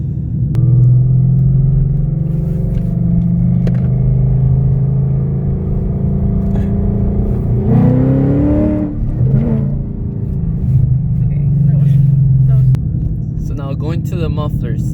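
A Ford Mustang GT with an X-pipe exhaust rumbles steadily at close range, with a rise in revs midway, while a person talks over it.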